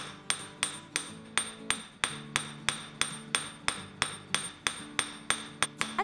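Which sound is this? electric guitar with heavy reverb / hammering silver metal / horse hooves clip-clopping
hammering silver metal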